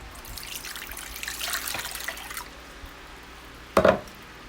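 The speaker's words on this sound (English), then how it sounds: "You're going to pour in the water, 2 cups of water." Two cups of warm water trickle and splash steadily into a bowl for a couple of seconds while making bread dough, fading out, followed by a brief louder splash or clunk near the end.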